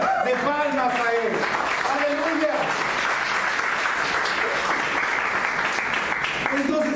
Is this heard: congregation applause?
yes